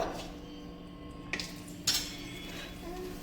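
Plates and cutlery clink softly while chaat is served at home: a couple of light metallic chinks and taps over a quiet room hum.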